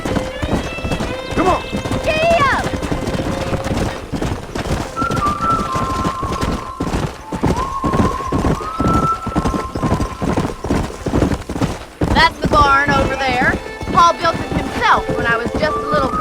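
Horse hooves clip-clop at a steady gallop in the Red Dead Redemption video game, with whinnies and a rider urging the horse on, loud and close, with game voices and tones over the hoofbeats.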